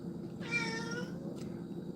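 A single short house cat meow, fairly clear against a quiet indoor room, with a faint brief click shortly after.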